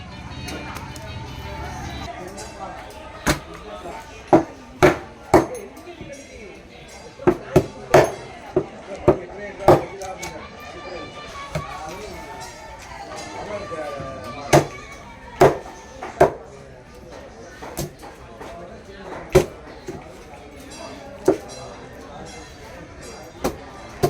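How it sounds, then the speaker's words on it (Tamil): A knife chops through barramundi fish on a cutting board: a long series of sharp, loud, irregular thwacks, sometimes in quick pairs or clusters, over a low background. "இப்போ கட் பண்ண போகிறோம்"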